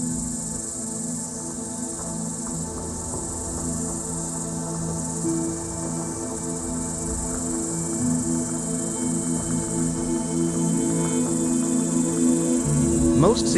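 Cicadas sing in a steady, loud insect drone that holds without a break, layered with a dense buzzing chorus and no voices.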